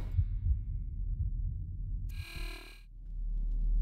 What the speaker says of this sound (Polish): Słyszałem bicie serca, ale nie wiem, czy to nasze.